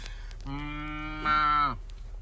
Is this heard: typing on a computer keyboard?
no